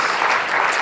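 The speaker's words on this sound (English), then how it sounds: "Can we once more have a big round of applause, everyone, for Kristin?" Conference audience clapping for a speaker, a dense, even wash of applause at moderate loudness filling the whole brief moment, no voices.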